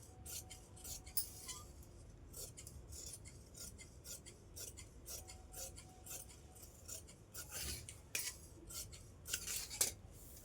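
Scissors snip close by in a quiet room, with a series of short, faint crisp cuts and rustles spaced unevenly and growing a little sharper toward the end.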